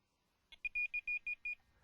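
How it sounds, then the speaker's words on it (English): A Delkim TX-i Plus bite alarm receiver gives a quick run of about seven sharp, high electronic bleeps in close, even succession, loud and close with nothing else in the background. "every single bleep on the buzzer is heard on here"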